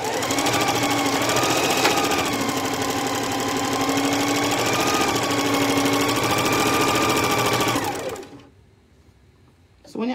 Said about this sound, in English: now I am gonna do a 1/2 inch seam again